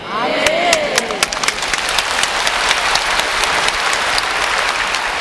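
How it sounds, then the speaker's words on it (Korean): A church congregation bursts into applause during a sermon, a loud, dense wash of clapping that continues steadily, with a brief voice-like tone near the start. "지금은 여러분 박수를 치지만"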